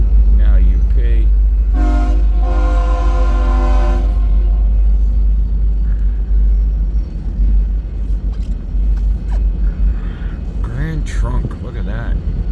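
Westbound Union Pacific freight train passing on the former C&NW mainline at Fremont, with a loud multi-tone horn blast early on over a heavy low rumble of rolling cars, and voices talking nearby.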